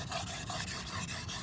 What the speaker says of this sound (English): Shogunku is when you sharpen it on the other side